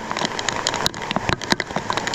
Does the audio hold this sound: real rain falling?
yes